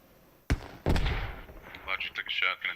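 Two sharp gunshots ring out in a multiplayer shooter, the first a quick crack and the second a heavier boom with a rolling tail, followed by lively commentary talk.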